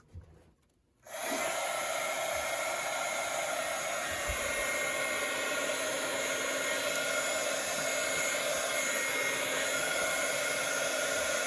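An electric heat tool for card making switches on after a second of quiet and runs continuously, a loud steady blowing whir with a high whine that holds without change to the end.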